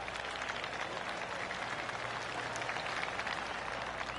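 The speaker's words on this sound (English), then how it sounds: "I can hear the golf claps around the course" Scattered light applause from a distant gallery of spectators on a golf course, a soft steady patter of golf claps carrying across open ground.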